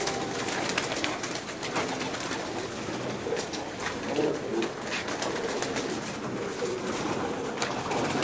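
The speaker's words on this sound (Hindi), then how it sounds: "ले जी ये छत वाले कबूतर है" Rooftop pigeons coo steadily over a broad outdoor hiss, their soft, throaty calls repeating throughout with no talking.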